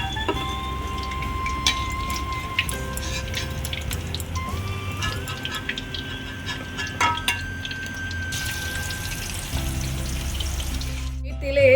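Tangra fish crisp in hot oil in a Bengali kitchen, a continuous sizzle and spatter with occasional clinks of a utensil against the pan, close and steady, with a brief burst of harsher frying toward the end.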